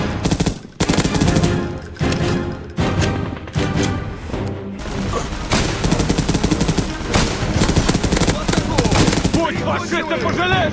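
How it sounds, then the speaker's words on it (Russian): Heavy machine gun fire in the Europe Front video game, with dense, loud, rapid bursts rattling nearly continuously alongside other battlefield gunshots and shouted voices. "Тяжелый пулемет, уничтожьте его!"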